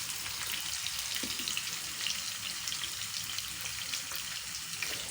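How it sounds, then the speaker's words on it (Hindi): Onions frying in a pan for a potato and capsicum curry give a steady, dense sizzle with fine crackling spatter, continuous and fairly quiet throughout, with no voices. "प्याज जो हैं वो फुल फ्राई होना शुरू हो गए हैं।"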